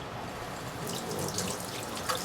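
Running hot water splashes steadily into a sink as soapy hands move through it, a soft continuous wash with light drips.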